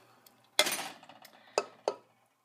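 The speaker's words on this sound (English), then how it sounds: "we're gonna dump in the lentils" Dry lentils poured into a cooking pot for a plastic-free lentil stew, a brief rattling rush followed by two quick clinks of kitchenware in a quiet kitchen.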